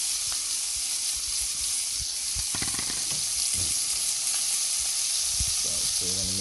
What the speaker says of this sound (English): I'm gonna throw it in the oil.